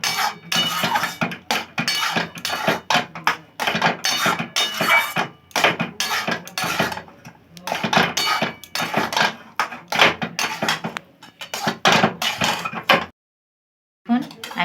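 Semolina dough worked in a pan over a low flame, with a spoon knocking, scraping and clinking against the metal in quick irregular bursts, close and fairly loud, pausing briefly near the end.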